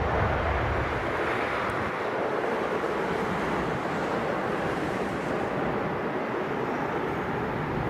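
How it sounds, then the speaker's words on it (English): Jet airliner engines spool up for departure on runway 27R at London Heathrow, a steady broadband roar heard from a distance, constant in level, with wind noise and no talk. "you can hear those engines firing up. Very bassy."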